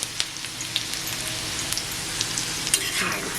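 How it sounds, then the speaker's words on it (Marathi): Chopped onion with salt sautés on a hot tawa, giving a soft, steady sizzle with light pops and scattered taps of stirring, fairly quiet and close. "थोडासा असा कांदा असा परतवून घ्यायचा"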